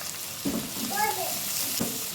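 Vegetables — onion, carrot, beans and capsicum — stir-frying with garlic in a hot pan, a steady close sizzle with a couple of stirring scrapes, no talk.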